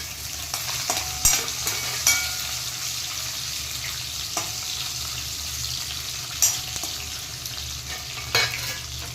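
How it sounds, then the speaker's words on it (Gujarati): Paneer pieces frying with cumin in hot oil in a kadai, a steady close sizzle with occasional sharp scrapes and clinks of a spatula stirring at irregular intervals. "હવે જીરું થાય એટલે હું પનીરના ટુકડા એડ કરી દઈશ પહેલાં."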